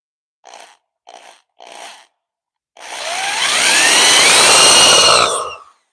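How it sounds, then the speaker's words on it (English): A power drill drives screws into wood while a painting rack is built: three short bursts of the motor, then one long, loud continuous run that whines and rises in pitch before stopping, heard up close with no talk. "I'm going to go ahead and put these screws in."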